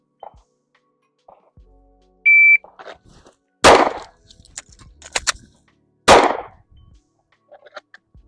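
Pistol shots in a low round count timed drill: a shot timer beep, then two sharp loud reports a couple of seconds apart, with smaller clicks and clatter between them.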